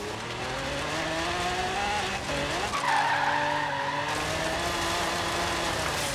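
Tires skid in a racing video game as a tuned car slides, with a long squeal that wavers in pitch and rides over steady engine drone, close and loud throughout.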